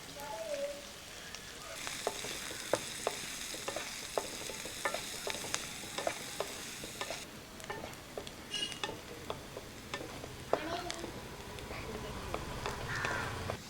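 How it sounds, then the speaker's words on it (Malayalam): Curry leaves, garlic and onion fry in hot oil with a soft, steady sizzle. Repeated stirring clicks and scrapes run through it, and a voice can be heard now and then. "കരിവേപ്പില ഇട്ട് കൊടുക്കാം. അടുത്ത് വെളുത്തുള്ളി, സവാള ഇട്ട് കൊടുക്കാം."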